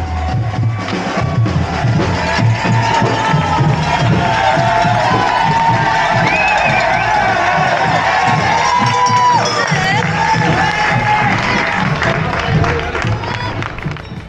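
Spectators crowd a trail race course during a legendary trail event, a dense continuous roar of cheering and shouting with children's voices mixed in, loud and close throughout as runners pass.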